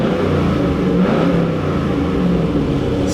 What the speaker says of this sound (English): so let's give it a couple revs here.